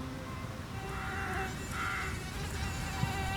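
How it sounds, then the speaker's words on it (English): A mosquito flies out of a larvicide bait station, its thin whining buzz rising twice in short bursts over a steady, faint background hum. "After laying a batch of eggs, the now contaminated mosquito flies out of the station."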